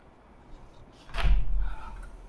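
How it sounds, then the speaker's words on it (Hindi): A closed door is rattled and thumped in a single short burst: one loud banging, shaking impact that fades out quickly, with no voices. "ऐसे दरवाज़ा मत खड़काया करो, अगर दरवाज़ा बंद हो तो"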